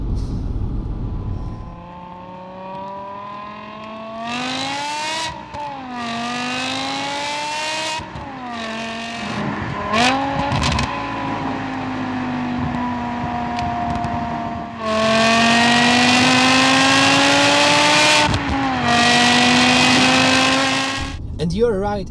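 A BMW M5 Touring (373 kW) is driven hard through a forest, its engine revving loudly and rising in pitch through repeated hard accelerations, with gear changes, tire noise and an occupant talking over it.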